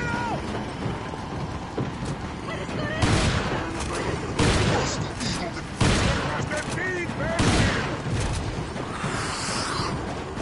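Shotgun blasts in the video game Resident Evil 4, several loud booming shots spaced a second or two apart over a busy mix of game sounds and effects.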